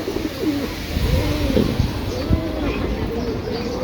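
A pigeon coos nearby, a few soft throaty rolling calls over low background noise.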